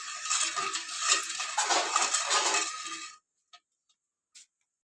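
Spoon stirring sugar into a cooking pot on a gas stove, a steady scraping rattle for about three seconds, then a few faint isolated clinks before silence.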